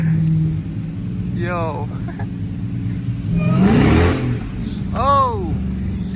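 A Dodge Demon Charger's engine revs in bursts as its wheels spin in deep snow, with rising and falling whines, a loud surging roar midway, and voices talking over the engine.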